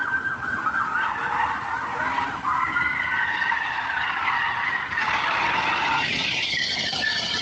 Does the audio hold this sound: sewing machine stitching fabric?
no